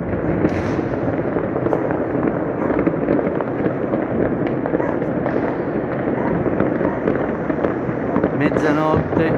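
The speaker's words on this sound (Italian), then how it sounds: "Legnano non sa dire di no ai fuochi, ai botti." New Year fireworks burst continuously over Legnano at midnight, a dense crackling barrage of near and distant bangs with a voice speaking over the din.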